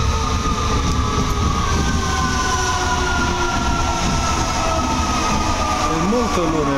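Night metro train in Rome, a steady loud rumble of the moving carriages with wheel and rail noise and squealing tones, close and continuous throughout.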